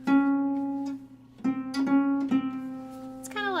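A lever harp string is plucked with its lever raised, ringing out several times as clear, sustained tones with short gaps between the notes, quiet and close.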